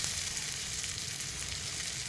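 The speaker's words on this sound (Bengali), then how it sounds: "তো আমার বেগুন ভাজা প্রায় হয়ে আসছে" Eggplant frying in a pan of oil, a steady close sizzle that holds evenly throughout with no speech.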